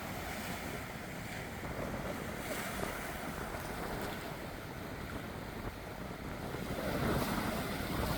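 Ocean waves break against a breakwater on the east coast of Korea, making a continuous loud wash of surf mixed with wind buffeting the microphone. There are no voices.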